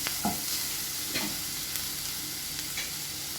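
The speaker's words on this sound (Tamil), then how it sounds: "எல்லாத்தையும் நல்லா வதக்கிக்கலாம். இது ரொம்ப வதங்க வேண்டாம், லைட்டாக வதங்கினா போதும்." Vegetables sautéing in a pan for veg bonda, a steady close sizzle with a few sharp stirring scrapes of a spoon against the pan, no voices.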